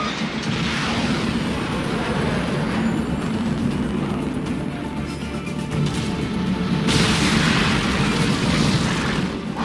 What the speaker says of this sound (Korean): 폭발과 함께 저그의 유일한 감염 구덩이가 날아갔습니다